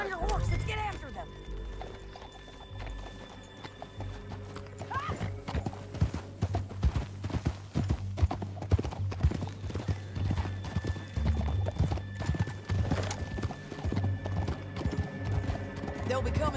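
A horse's hooves clop rapidly and rhythmically as it gallops through the Red Dead Redemption 2 video game, with occasional whinnies and neighs, all close and clear with game sounds around it.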